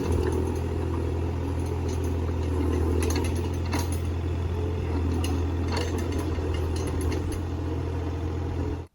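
A small earthmoving machine spreading dirt on a dirt road rumbles with a steady low engine drone, while faint clanks and rattles from its moving parts come through now and then.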